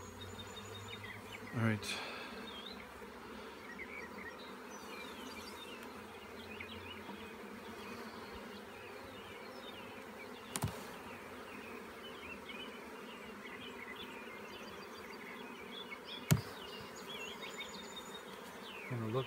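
Honey bees drone in a steady, dense buzz as a swarm trap is transferred into a hive, with a few sharp knocks and handling clicks scattered through and brief talk from a nearby person.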